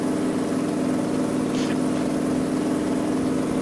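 A truck's engine with a pierced exhaust in the off-road driving game Spintires drones loudly and continuously, a steady low rumble with a harsh buzzing edge and no talking over it.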